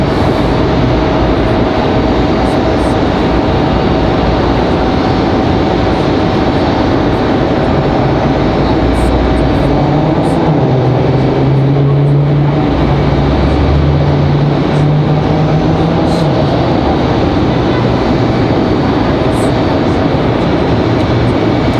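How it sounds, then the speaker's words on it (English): A JetBlue airliner descending to land at Raleigh-Durham airport, a loud, broad steady roar of jet engines that holds throughout, with a low rumbling drone swelling in the middle. "JetBlue coming down the hill here."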